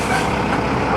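A KC Trucking truck pulls away from a hazardous waste site, its air brakes releasing in a loud, steady broadband hiss over engine rumble, close and continuous for the whole second with no talking.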